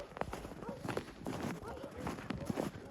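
Two mares, a Belgian and a Boulonnais, out for a walk, their hooves clip-clopping in a quick, uneven rhythm at moderate distance, soft and fairly faint.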